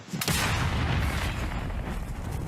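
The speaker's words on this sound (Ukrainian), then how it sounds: "Нас приймає розрахунок легкої американо-британської гаубиці М 777 калібром 155 міліметрів" A single heavy M777 155 mm howitzer blast near the start, a sharp deep boom followed by a long rumbling roll that slowly decays over the remaining seconds.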